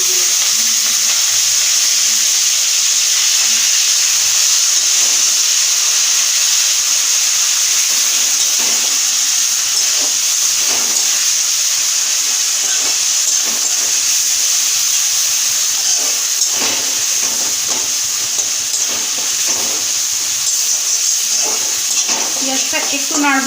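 Onion paste and capsicum fry in a pan with a constant loud hissing sizzle. Occasional stirring scrapes sound over it, and a voice talks at times.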